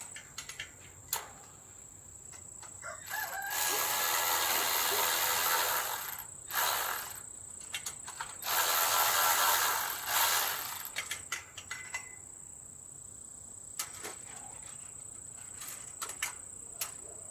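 Ratchet wrench clicking as bolts are tightened on an automatic chicken coop door opener, two long bursts of rapid clicks with short pauses, with a steady insect-like background whine.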